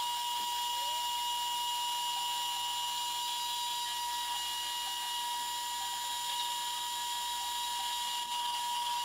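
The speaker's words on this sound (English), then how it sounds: "Just get a center mark, drill a screw hole." A drill boring a screw hole in metal whines steadily and loudly, holding one high-pitched tone without a break throughout.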